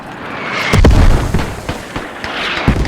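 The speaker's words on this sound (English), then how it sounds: "Oh no, hate mortars." Mortar rounds exploding in the military shooter game Squad: a heavy boom followed by a string of rumbling blasts and bursts, loud and close, with no speech.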